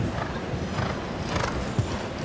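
A show jumping horse's hooves clip-clop at a Grand Prix arena, irregular muffled thuds against steady crowd and arena ambience, one sharper strike standing out near the end, moderately close.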